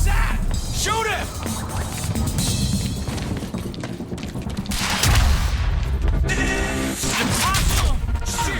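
Dense gunfire fills a Quantum Break firefight: bursts of shots and automatic fire ring out continuously, with shouting voices mixed in and a loud heavy impact partway through.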